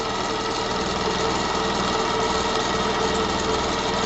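A small 8.5 cc steam engine with a boiler runs steadily nearby in a workshop, vibrating a table, with a continuous mechanical hum and rapid rhythmic chugging, unchanging throughout.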